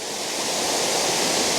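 A waterfall roars in a steady, broad rush of falling water, loud and unbroken for the brief moment, with no voices.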